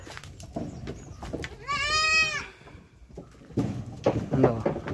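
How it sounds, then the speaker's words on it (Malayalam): Goats bleat loudly in a single drawn-out call at a farm near Adimaly, Kerala, with scattered shuffling and bustle of the herd around it. "കുറേ ഉണ്ടല്ലോ ആടുകൾ."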